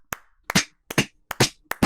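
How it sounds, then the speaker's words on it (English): A single person clapping five times in a slow, even rhythm, each clap crisp, close and loud, with silence between them. "I want to give a round of applause."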